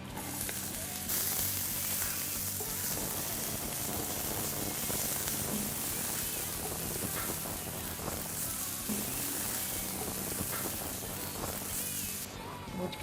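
Chopped onion fries in olive oil with a dense, steady hiss and crackle, close and even throughout, without pauses.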